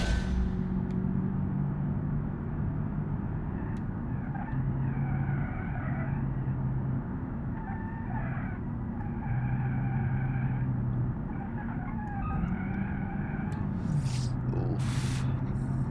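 A Mitsubishi Outlander in BeamNG.Drive laps the Nürburgring, its engine a steady droning hum that shifts pitch as it accelerates and eases off, with brief tire squeals near the end and no talking.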